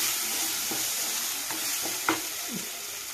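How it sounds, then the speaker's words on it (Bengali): Soybean pieces for a malai curry, cooked with half a spoon of meat masala, are sautéed in a pan. A steady low sizzle runs throughout, and a few sparse spatula scrapes and clinks stand out. "1/2 চামচ মিট মশলা দিয়ে এগুলোকে ভালো করে কষাতে থাকবো।"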